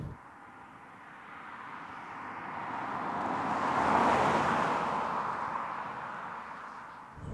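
A Kia Ceed 2 driving along a road gives a steady, moderate tire and engine hum that swells gradually to a peak midway and then eases off, with no talk.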